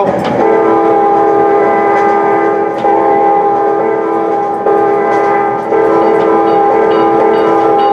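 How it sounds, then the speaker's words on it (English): A Norfolk Southern locomotive horn blown by the engineer at a whistle sign, a loud sustained multi-tone blast with brief dips in between, running for the whole stretch with rail rumble underneath. "Pull the horn as you go past it."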